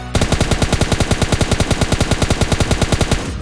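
An M4 rifle fires a long rapid automatic burst in the mobile shooter PUBG Lite, loud, close and evenly spaced shots with no talking.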